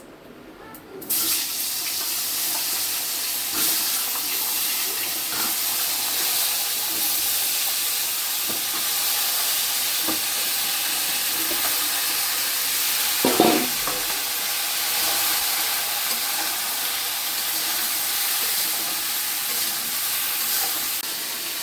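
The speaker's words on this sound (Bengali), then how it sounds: "তো তরকারিটা নামানোর আগে জিরা তেজপাতা দিয়ে দেবো।" Cumin seeds and bay leaves sizzle in hot oil in a wok while a curry is finished, making a steady, loud broadband hiss throughout with a brief clink partway through.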